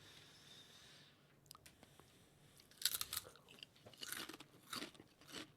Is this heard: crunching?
yes